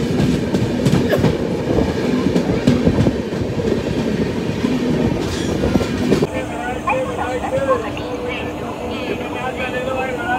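The Telangana Express, a passenger train, rumbles steadily along the track with continuous rolling clatter, heard from inside a general coach, loud and close throughout.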